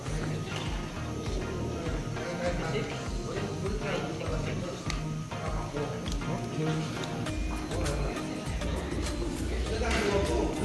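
Pigeons coo repeatedly in a busy outdoor loft setting at a racing pigeon event in Matnog, Sorsogon, with steady background noise, scattered clatter and voices talking throughout.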